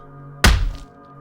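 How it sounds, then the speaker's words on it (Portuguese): A single heavy knocking thud from a basement, one sharp dull impact that rings out briefly against a quiet hum, close and alone. "Ninguém respondeu e uma outra pancada foi dada."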